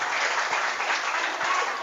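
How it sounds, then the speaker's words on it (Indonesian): A religious lecture audience claps in a dense, steady wash of applause that holds evenly from start to end, with no talk. "Tepuk tangan dulu"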